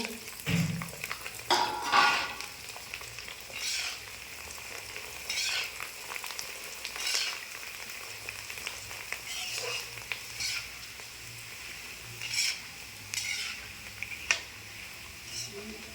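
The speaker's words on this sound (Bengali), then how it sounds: "গোপালের জন্য পাঁপড়ও ভেজে নিচ্ছি" Papad frying in hot oil, a steady crackling sizzle that carries through the whole stretch, with a few louder bursts and a faint voice briefly near the start.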